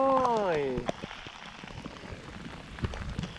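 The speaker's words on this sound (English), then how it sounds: "the rain doesn't seem to be stopping" Steady rain pattering on surfaces around a fishing spot in Manitoba, dense and close, with a voice speaking briefly at the start.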